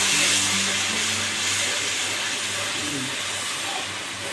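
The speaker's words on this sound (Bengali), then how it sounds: "তেল ফোটে।" Oil for a biryani spice masala sizzles in a pan as a loud, steady hiss that holds throughout with no voices.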